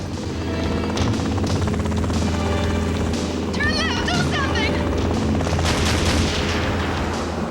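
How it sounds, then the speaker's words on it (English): A helicopter chase scene from a low-budget action film roars with steady rotor drone, gunfire and booms, loud throughout, with voices speaking over it. "there were no spectacular scenes or anything except maybe the helicopter chase"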